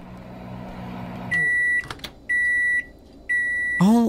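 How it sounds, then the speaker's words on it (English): Three loud steady tonal beeps from a state-of-the-art microwave oven in a psychological horror video game, each lasting about half a second with short gaps, followed by a rising mechanical whir as the door springs open by itself. "We've got a state of art microwave that opens its bloody self."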